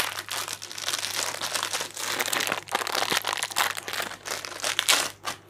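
A plastic bag of salt is crinkled and rustled by hand while pickling eggplant, giving bursts of close, crackling crumpling noise with brief pauses between them.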